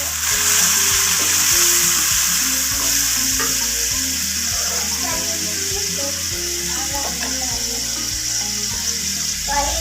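Whole cloves, cumin seeds and black peppercorns sizzle steadily in hot oil for a Punjabi wadiyan curry, a loud continuous frying hiss with faint stirring clatter and no talking.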